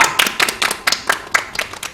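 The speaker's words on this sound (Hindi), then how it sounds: "जोरदार तालियां।" Sharp, close hand claps in a quick irregular rhythm at a school event, only a few people clapping rather than a full crowd.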